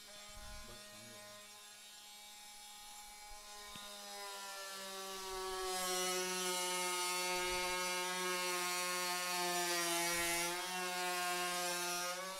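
Makita cordless oscillating multitool cutting out tiles, a continuous high buzzing whine that rises in pitch and loudness midway and holds steady, close up with no talk.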